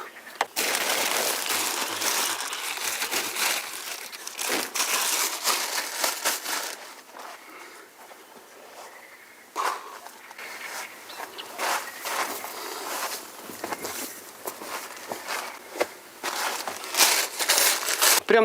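Plastic bag crinkling and rustling as clothes are packed away after a perch fishing trip outdoors, with continuous close crackling and scrunching handling noise in bursts throughout, no talk.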